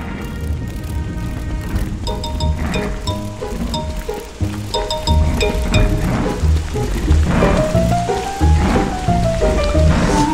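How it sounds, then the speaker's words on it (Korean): Rain in the video game Don't Starve, a steady patter mixed with game music tones and occasional chimes and plucks, continuous and moderately loud with no talking. "아니, 나오라니까 비가 오네."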